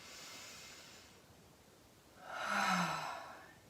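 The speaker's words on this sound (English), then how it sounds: "Exhale, out the mouth, down the back." A slow, audible exhale out through the mouth during a yoga breathing practice, a single soft breathy rush rising and fading, close and quiet.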